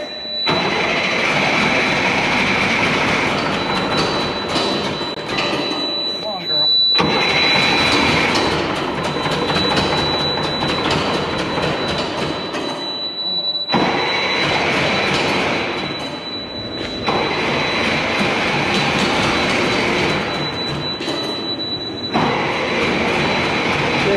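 A Mercedes Unimog engine cranks and runs in repeated attempts, each a loud, rough mechanical roar of several seconds separated by brief pauses, close by and with no talking.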